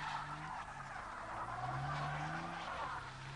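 On an icy, slippery road, a car without snow chains spins and skids its tires, polishing the surface smooth. A steady, fairly faint grinding whine of spinning wheels and engine carries on throughout, with no talking.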